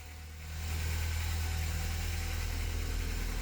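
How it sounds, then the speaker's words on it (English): A 1983 Porsche 944 engine idles steadily with a low, even rumble and faint mechanical hum after a brief quieter start. "it is running right now, so it's gone away, and it's idling pretty good"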